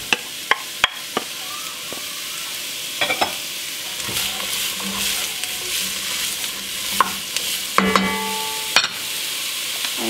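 Vegetables and carrots cook in hot oil in a pot for chicken orzo soup. A steady sizzle runs beneath scattered sharp clicks and scrapes of stirring, with no talking.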